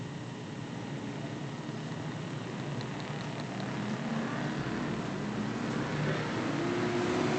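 Limited stock cars racing at Virginia Motor Speedway: a steady, distant roar of engines and crowd wash with a faint rising engine note toward the end.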